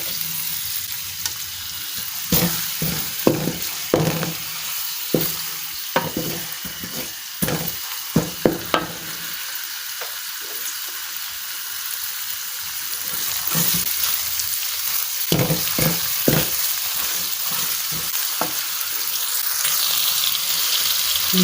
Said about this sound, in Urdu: اس کو فرائی کرتے ہیں پیاز کو آئل میں زیرے کے ساتھ۔